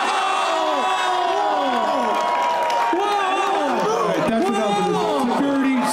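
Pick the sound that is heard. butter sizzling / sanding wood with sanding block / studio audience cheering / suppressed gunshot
studio audience cheering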